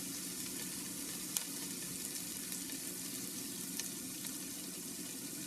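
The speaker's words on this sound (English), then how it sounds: "Basically, you're just gonna brown it in its own fat that comes out of it." Salchichon, a Puerto Rican salami, browns in its own rendered fat in a pot for soup, giving a steady, close frying sizzle with a couple of faint clicks and no talking.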